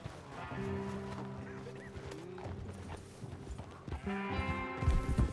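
Horse hooves clip-clop in the Red Dead Redemption 2 video game, with a steady rhythm over a low musical drone, getting louder and busier near the end.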